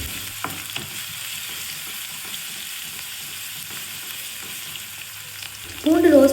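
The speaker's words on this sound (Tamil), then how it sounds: "பூண்டு ஒரு அளவுக்கு ரோஸ்ட் ஆகட்டும்." Chopped garlic frying in oil for a dal tadka, a steady soft sizzle running throughout, close and moderately loud, with a brief louder stir or clatter near the end.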